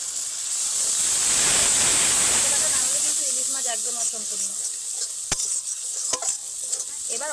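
Mustard paste and spices for a hilsa fish dish stirred in a pan over low heat, a steady soft sizzle and scraping hiss that fades after a few seconds into quieter crackles with a couple of sharp utensil knocks.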